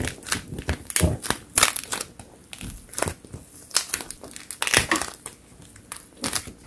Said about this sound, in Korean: 어머어머 천사 점토에서 이런 소리가 나요.